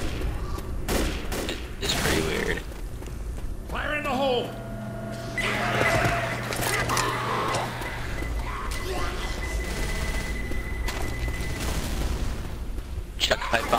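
A pipe bomb goes off in Left 4 Dead at a construction site, heavy booming blasts and gunfire crackling amid dense game noise, with players talking over the chaos.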